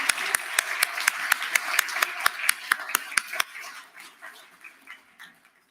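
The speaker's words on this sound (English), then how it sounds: "So please, let's have a round of applause for all of tonight's sponsors" Sparse applause from a gala audience for the evening's sponsors, a dozen or so sharp, evenly spaced claps ringing out close by, then thinning and fading into quiet after a few seconds.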